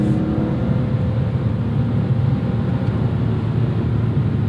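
A 2001 BMW M3 E46 engine heard from inside the cabin, a steady loud droning hum building in revs toward its 8,000 RPM redline, with no voices.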